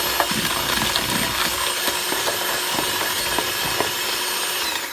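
Peppermint chocolate chip cookie dough mixed by hand in a bowl, a steady scraping and rubbing of the spoon through thick dough with repeated soft knocks against the bowl, close and continuous.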